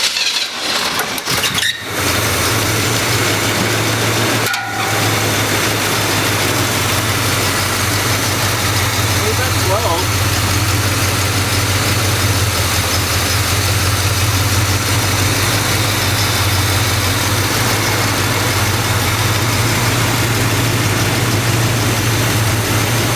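A low-mileage 350 V8 from a square-body truck, fitted in a restored 1972 Chevrolet C10, idles steadily and close by. After a couple of brief bumps at the start, its deep, even rumble holds without pauses or speech.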